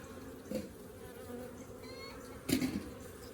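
Honeybees humming in a sparse hive colony as frames are inspected, a steady faint drone with a couple of brief louder buzzes near the ear.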